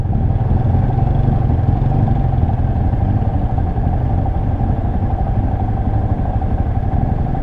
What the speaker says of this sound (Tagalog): Ang lakas na motor mo, kuya.